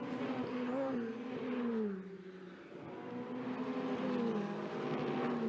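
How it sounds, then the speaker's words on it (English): Ferrari 488 Challenge race cars at the Circuit de Barcelona-Catalunya roar steadily with engine pitch rising and falling through gear changes, heard from a distance as they lap the track. "Great sound of these 488 cars around this Barcelona circuit"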